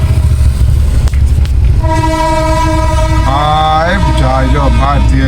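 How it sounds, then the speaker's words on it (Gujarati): A large Indian Railways train passes close by, with a heavy, steady rumble throughout and a loud horn that sounds in several wavering blasts over the last half. "આ તો મોટી રેલ ગાડી છે"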